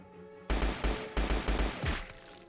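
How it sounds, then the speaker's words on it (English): A burst of five loud, closely spaced gunshots in a dubbed Hakuoki Chronicles scene, heavy booming blasts each ringing briefly before the next, ending with a sharper crack and fading echo. "the sound of the gunshots firing"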